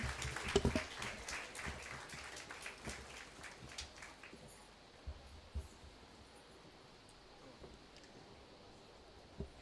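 Brief, faint applause from a pharmacy conference audience in a large hall, a few seconds of scattered clapping that quickly dies away into quiet room noise with occasional thumps.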